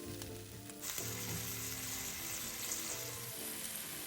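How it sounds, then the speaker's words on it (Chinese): Pork ribs sizzle loudly in a wok with sauce for braised caramel pork ribs, a steady hiss broken by short stirring scrapes, close and alone. "炒至排骨排出的水分收干后，这时候再将预先备好的调味汁先倒入1/3左右"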